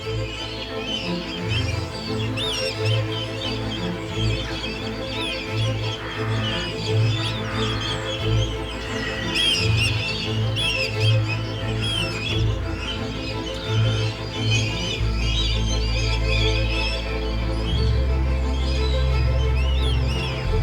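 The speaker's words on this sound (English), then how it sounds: "Kites come here every day from far and wide. A feeding frenzy ensues." Red kites call at a feeding site in Wales, with a scatter of high, thin whistles over a steady, low, droning background bed.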